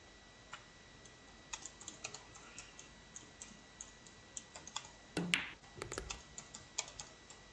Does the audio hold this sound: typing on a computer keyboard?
yes